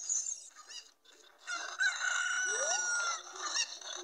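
Chickens clucking and crowing in the video game The Legend of Zelda: Ocarina of Time, in Kakariko village; close, bright squawks and a drawn-out crow rise and break off in bursts.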